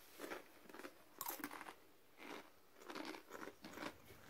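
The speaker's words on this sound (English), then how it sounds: "That's a lot of crunching going on." Loud crunching bites of hot spicy snacks, close up, in uneven bursts of chewing separated by short pauses, with no talking.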